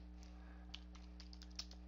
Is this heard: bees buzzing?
no